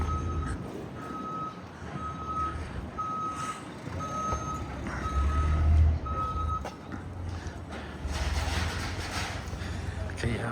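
A truck on a Brooklyn street sounds steady reversing beeps at a regular pace over a low engine rumble and busy street noise, with some voices nearby.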